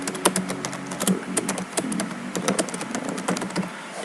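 Rapid, uneven clicking of keys on a laptop keyboard as text is typed, close and fairly loud, steady bursts of taps with no talk over them.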